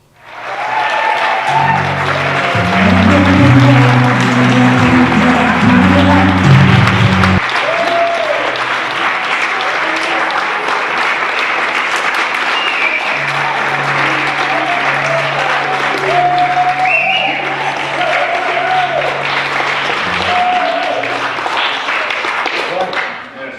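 Sustained theatre audience applause after a comedy performance of A Christmas Carol, loud and continuous throughout, with music or voices sounding underneath at times.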